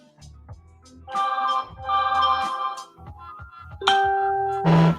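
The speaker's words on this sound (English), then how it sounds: "Where's my phone making all this noise?" A phone rings with a bright melodic ringtone, several rising and falling tones repeating loudly and close over about five seconds, with no talking.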